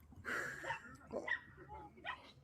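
A small dog barks and yips at a beaver, several sharp bursts in an uneven series, moderately close but not loud, with faint background noise.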